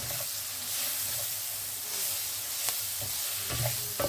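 Ground beef fries and sizzles in a pan for a spaghetti bolognese sauce, with steady crackling hiss and occasional scraping stirs and soft clinks, close and alone without talk.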